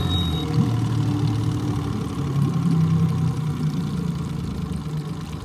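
A duck boat outboard motor idles out on the water with a steady, low, even hum and faint mechanical knock, continuous and moderately close, with no voices.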